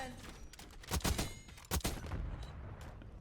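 Video game gunfire, with a weapon firing in a few sharp bursts near the one-second and 1.7-second marks over a steady background of game noise, fairly quiet overall.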